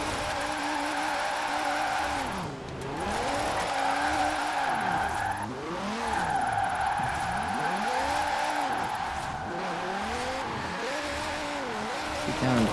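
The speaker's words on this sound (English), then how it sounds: "Drifting through here." A car drifting and repeatedly spinning out in the racing game Forza Horizon 4, its engine rising and falling through sweeping revs over a continuous tire squeal, with a brief lull as it shifts gears.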